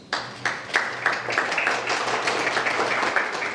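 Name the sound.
audience applause for the International Rescue Committee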